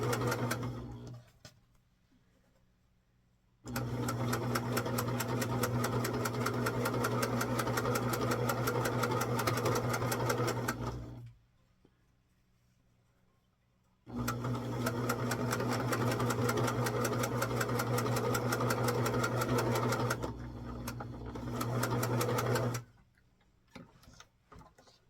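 A sewing machine chain-sews a run of small quilt pieces, its rapid steady needle rattle running in two long stretches of about seven seconds each, separated by quiet pauses and ending in short bursts, close and alone.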